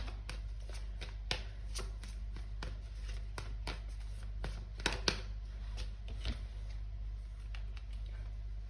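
A tarot deck is shuffled and cards are pulled, giving a close run of crisp, evenly spaced riffling snaps over a low steady hum.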